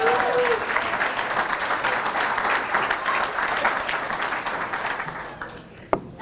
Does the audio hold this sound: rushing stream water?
no